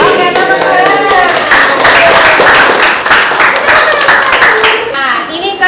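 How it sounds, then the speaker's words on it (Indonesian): Classroom clapping, a continuous spread of hand claps from a group of students lasting several seconds, near and loud, with children's voices chattering underneath. "Oke, tepuk tangan."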